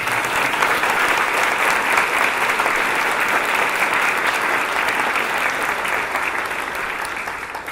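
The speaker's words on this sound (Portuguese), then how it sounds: "Letícia, a nossa salva de palmas" Audience applause in a community gathering hall, honoring the lighting operator in the booth: dense, steady clapping from a sizable crowd that holds strong throughout and tapers slightly at the end.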